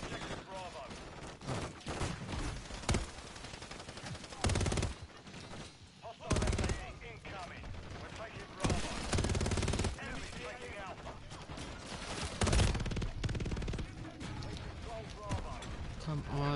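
Bursts of gunfire from a Call of Duty: MW3 match, sharp shots scattered across the stretch with louder broadband blasts every few seconds, mixed with game effects and a voice talking over the action.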